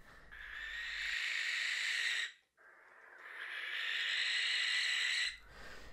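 A barn owl gives two long, harsh, hissing screeches, each lasting about two seconds, with a short gap between them, loud and close in otherwise quiet surroundings.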